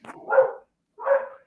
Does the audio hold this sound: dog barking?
yes